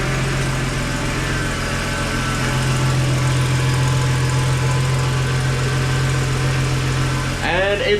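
A Ford Falcon XR6 engine runs at a steady idle right after a power steering pump replacement, a constant close low rumble with a whining tone throughout and a brief clatter near the end.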